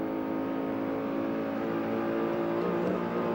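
A Bathurst 1994 touring race car engine running to 7,500 RPM revs steadily upward, a loud continuous droning roar with rising pitch.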